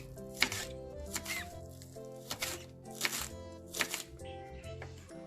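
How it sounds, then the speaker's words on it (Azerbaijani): A knife chops green onions for a crab salad, several soft, quick cutting taps in an irregular rhythm, close but faint, with a steady tonal hum underneath. "Sonra yaşlı soğanlarımızı doğrayırıq."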